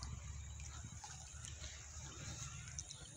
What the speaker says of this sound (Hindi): बहुत ज़्यादा पानी बह रही है